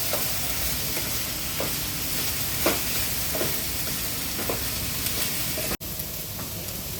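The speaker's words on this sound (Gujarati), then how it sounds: "હવે આપણે ડુંગળી નાખી દઈએ." Onions frying in a pan, added over carrots already cooking for a vegetable lasagna, give a steady, close sizzle with a few soft stirring scrapes and one brief drop-out near the end; no voices.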